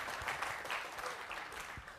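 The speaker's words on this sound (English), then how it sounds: "Small round of applause, please." An audience in a lecture hall applauds with steady clapping that fills the whole short stretch, moderately loud and close.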